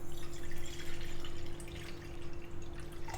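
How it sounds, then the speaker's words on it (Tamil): Plain water trickles and drips onto cut bitter gourd in a bowl for sambol, a soft continuous splashing pour heard close up under a steady low hum. "அதில் சாதாரண பச்சை தண்ணி கொஞ்சம் விட்டுக்கொள்கிறேன்."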